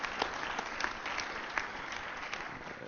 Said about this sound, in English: Can we please give them another big, big round of applause?